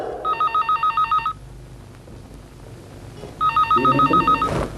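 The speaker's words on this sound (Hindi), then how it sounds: "फोन सुनना" An old-style telephone bell rings in two bursts of rapid trilling, separated by a pause, loud and close.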